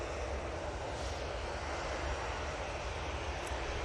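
Aircraft engines at Manchester Airport give a steady, loud, continuous roar with a broad rush of noise that holds evenly throughout and has no talking over it.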